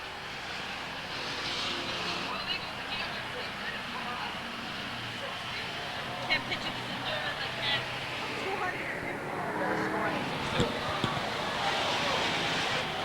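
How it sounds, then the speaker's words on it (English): Stock cars racing on a short oval speedway in 1985 during a weekly event at Seekonk Speedway, a steady, distant engine roar that swells and fades across the whole stretch, mixed with wind and an announcer talking over it. "Cars spinning all over the racetrack."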